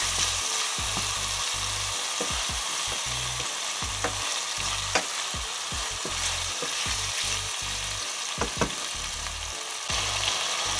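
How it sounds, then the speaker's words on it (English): Beef browns in a hot pot, a loud continuous sizzle and frying hiss broken by repeated scrapes and clicks of stirring, with no voices. "So now I'm gonna add the beef."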